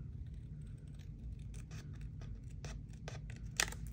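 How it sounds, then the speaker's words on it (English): Scissors snip paper, cutting the white edge off a junk journal tag, a series of quick close crisp cuts in irregular rhythm, faint background hum and no talk. "I want to cut this white edge off"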